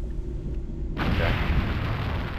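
Bomb blowing up in a Super Mario 64 horror fan game, a low rumble that suddenly bursts into a loud, sustained booming explosion about a second in, rolling on with heavy low-end roar and no voices.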